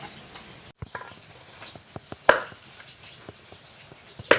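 A knife cutting a baked jackfruit cake (kalthappa) out of a clay pot, with sparse scraping taps and two sharper knocks against the earthenware, close and fairly quiet.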